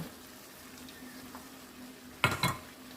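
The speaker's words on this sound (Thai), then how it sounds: "แล้วก็มาผัดคลุกด้วยกัน" Pork and coarse curry paste are stir-fried in a pan, a quiet steady sizzle with a brief, louder scraping clatter of the utensil near the end.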